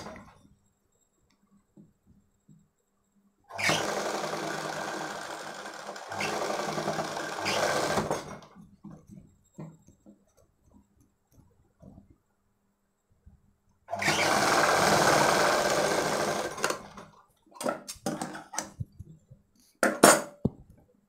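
Sewing machine stitching the side seams of a boat-neck baby frock, two sustained runs of rapid whirring separated by a pause and soft handling clicks, fairly close.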